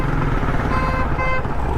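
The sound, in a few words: motorbike ridden on busy Karachi street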